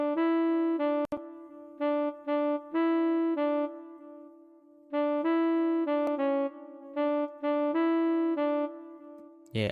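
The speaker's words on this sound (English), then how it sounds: "you go to woodwind, and you go to solo tenor" A solo tenor saxophone preset from the Purity plugin in FL Studio plays a melody of sustained and short notes in distinct phrases, clear and alone with brief gaps of silence.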